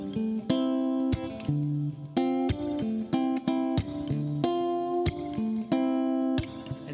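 An electric guitar riff rings out with notes left sustaining and overlapping, a steady run of plucked attacks with no choked or muted strings.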